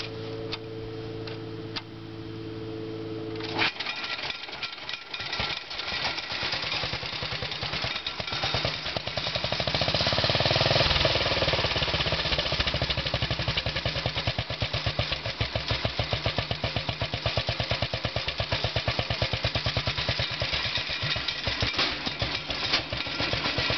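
A Sears Custom 10XL pulling tractor engine cranks over and catches, then settles into a loud, rapid, steady idle with a sharp ticking beat that continues for about twenty seconds with no talk.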